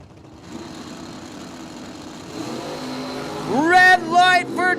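Drag racing at Cordova Dragway with a Nova and a Roadster at the start line: engines idle and rumble, then a loud revving launch rises sharply toward the end, under a public-address announcer.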